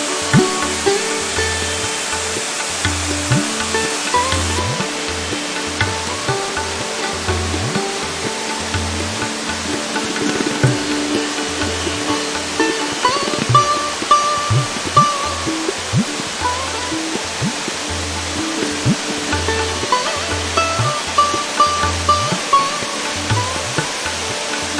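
Mainbas waterfall in West Sikkim, a mountain cascade reached on a trek near Uttarey, pours as a steady, full-bodied rush of falling water that continues without a break for the whole stretch, with no voices over it.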